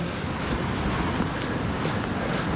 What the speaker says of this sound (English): When it's high tide, these waves come in and you see people surfing on them.